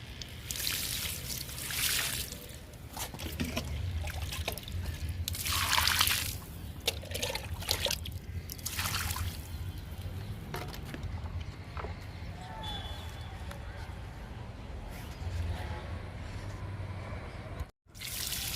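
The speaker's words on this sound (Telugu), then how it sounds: "పాలకూరకి ఇస్తున్నాను వాటరు." Water poured from a hose or can onto spinach and other leafy garden plants, a broad hissing splash that comes in several bursts, loud and close, with speech heard intermittently over it.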